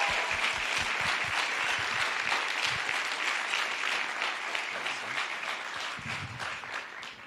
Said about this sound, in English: Please join me in a round of applause for Principal Mann.